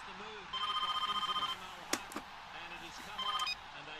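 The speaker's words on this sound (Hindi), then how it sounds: "It is ringing. I can hear it." Telephone ringing heard through a speakerphone, a fast trilling ring burst repeating twice with a pause between, moderately loud under someone speaking and a brief clatter.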